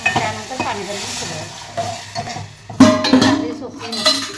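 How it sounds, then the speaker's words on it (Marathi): Something is stirred and sautéed in hot oil in a pot, with a steady sizzle and the metal scrape and clink of a spoon against the pan, close and continuous. "ती तेलामध्ये 1-2 मिनिट परतायची"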